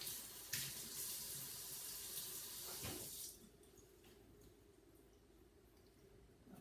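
Water gushing from a kitchen tap as something is rinsed, a steady hiss for about three seconds before it shuts off, leaving faint background quiet.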